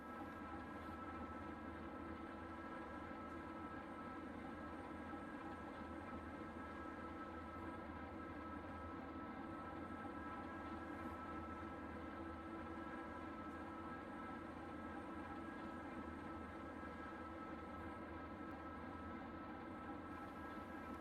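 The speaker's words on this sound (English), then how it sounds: "The crew increases the dynamic brakes as the long freight crosses the trestle down grade." HO scale model freight train of 1980 Western Pacific and BN era heading downgrade across a trestle with dynamic brakes applied, a steady low droning hum with sustained tonal whine, continuous and even throughout, no voices.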